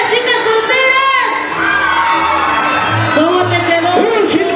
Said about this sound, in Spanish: A ver, chicas, un grito a las chicas solteras.